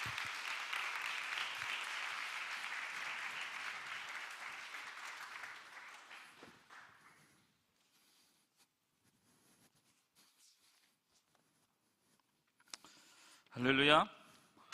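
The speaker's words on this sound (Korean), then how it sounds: "우리 박수로 모시도록 하겠습니다" A church congregation at a youth Sunday worship service claps to welcome a pastor, a full round of applause that fades away after several seconds into near silence before a brief voice near the end.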